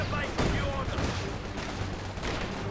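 Battlefield gunfire from Company of Heroes 2 aimed at an anti-tank gun, a steady dense crackle of rifle and machine gun shots with louder bursts, under someone talking.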